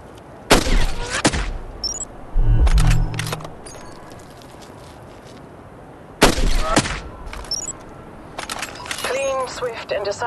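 Sniper rifle shots in the mobile game Hitman Sniper, a few sharp loud cracks spaced seconds apart with game voice lines spoken between them.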